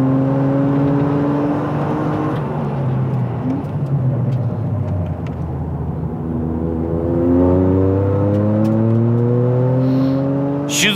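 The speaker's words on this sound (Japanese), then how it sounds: "取材前に急遽作ったというマフラーだが、なんかいい感じの音を出してます。" A Toyota GR Yaris four-wheel-drive car fitted with a hastily built custom muffler revs up repeatedly on track, its engine note climbing through the gears, dropping, then rising again strongly, close and loud.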